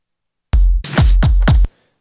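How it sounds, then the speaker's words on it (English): Reversed snare drum swelling up and sweeping into a following snare hit, a loud two-second electronic beat pattern with several sharp percussive strikes, alone with no talk. "I've reversed the snare, and I'm just going to have it sweep back into that fourth snare."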